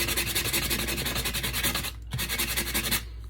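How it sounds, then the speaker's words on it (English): Sandpaper rubbed briskly back and forth over the corner of a handmade coaster, a close, steady scratchy rasp in quick strokes with a brief pause near the end. "just kind of sand any excess off of that corner"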